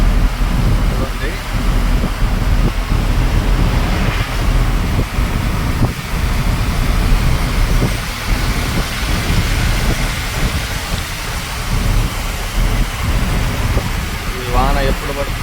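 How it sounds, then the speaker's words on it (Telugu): Steady rain pours down in Chennai, a dense, continuous wash of falling water heard close and loud throughout, with a person talking over it. "మళ్ళీ వాన స్టార్ట్ అయిపోయింది చెన్నైలో"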